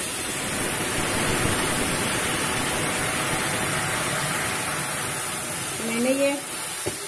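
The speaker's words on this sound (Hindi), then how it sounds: "अब मैं इसमें ये थोड़ा पानी डाल दे रही हूँ ताकि आम गल जाएं।" About half a glass of water poured into a pan of cooking mango pieces produces a continuous hissing, rushing spray that fills several seconds, fading near the end as a voice briefly speaks.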